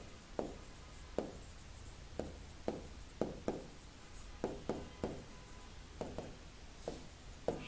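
A pen writes out a math solution by hand on paper: soft, close scratchy strokes tapping along in a steady, irregular rhythm against a quiet room hiss.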